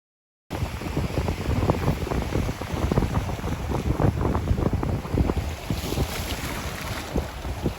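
Steady wind buffeting the microphone outdoors beside the River Hamble during winter carp fishing as rain begins, a continuous rough rushing roar with gusty low thumps throughout and no voices.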